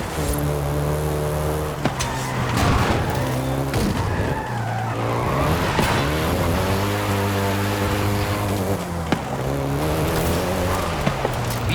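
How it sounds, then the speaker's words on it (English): A Volkswagen Golf GTI is driven hard in Forza Horizon 5, its engine droning loud and close with rising and falling revs and gear changes, while tires squeal and skid almost without pause. "including the Golf GTI you're driving right now"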